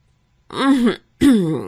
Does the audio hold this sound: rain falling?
no